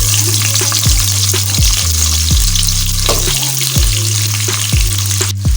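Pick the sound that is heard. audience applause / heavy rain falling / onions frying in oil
onions frying in oil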